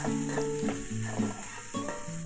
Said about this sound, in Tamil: நல்லா வதக்கணும் வெங்காயத்தை வதக்கி விட்டுடணும்